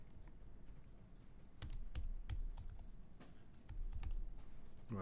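Keys clatter on a computer keyboard as a longer line of text is typed out, with irregular bursts of close, crisp taps and short pauses between them, no voices.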